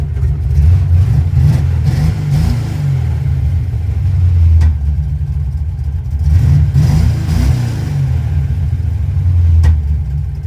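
A loud, close car engine with an Edelbrock 1405 carburetor rumbling low, rising in two or three throttle surges before settling back toward idle.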